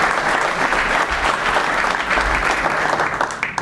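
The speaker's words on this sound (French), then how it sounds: "Et une nouvelle fois des applaudissements" Sustained audience applause fills a hall at a Meilleurs Ouvriers de France award ceremony in Montpellier, a steady dense wash of many hands clapping at even loudness from start to finish.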